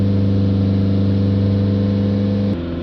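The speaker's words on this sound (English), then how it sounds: "we're going to hold the revs back up" A diesel vehicle's engine held at a steady 3000 RPM during DPF cleaning, a loud close hum with a constant tone that drops slightly as the revs ease off near the end.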